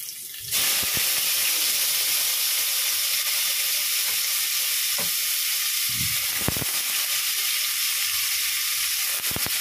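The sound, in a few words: onions frying in a pan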